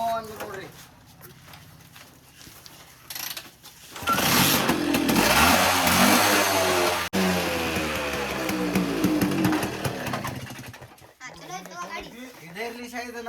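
An M80 motorcycle engine is started and runs with a loud, steady exhaust note from its silencer, continuing for several seconds before cutting off, with people talking nearby before and around it.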